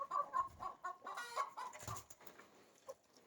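Free-range hens clucking in short, scattered bursts, several birds at moderate distance, fairly quiet with gaps between calls.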